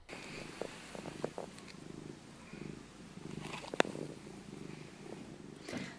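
A cat purrs softly and steadily up close in a quiet room, a low continuous rumble with a few faint clicks and rustles and no talking.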